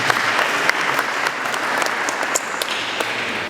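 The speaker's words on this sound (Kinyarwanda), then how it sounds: "mumpere Imana amashyi mu izina rya Yesu" A crowd at a church wedding claps steadily and enthusiastically, a dense, even applause with no talking.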